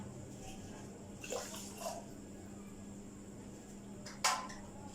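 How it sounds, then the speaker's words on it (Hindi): Water poured into a pan of sugar on the stove for a gulab jamun syrup, a faint continuous trickle under a low background hum with a few soft clinks. "मज़ीद आधा कप हम इसमें और ऐड करेंगे पानी"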